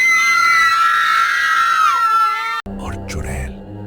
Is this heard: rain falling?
no